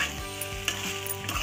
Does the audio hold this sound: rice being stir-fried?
yes